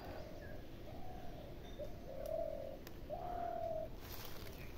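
Doves coo in a garden in a few drawn-out, steady calls one after another, moderately near and gentle, over a quiet outdoor background with faint chirps.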